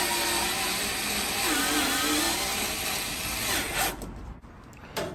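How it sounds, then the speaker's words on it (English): A power driver whirs steadily while driving screws to mount a bracket inside a Kenmore Elite dryer, its pitch dipping as screws seat, then ending in a few sharp clicks. "So, mount these 4 screws, really simple."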